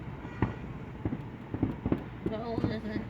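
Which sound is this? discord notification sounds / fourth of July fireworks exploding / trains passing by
fourth of July fireworks exploding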